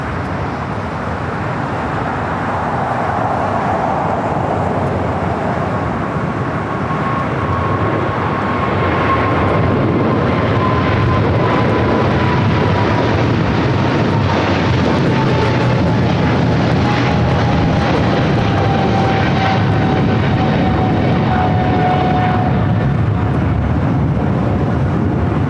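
A Turkish Airlines Boeing 777-300ER roars down runway 25R at LAX on its takeoff roll, a loud sustained jet rumble with a high engine whine that slowly falls in pitch.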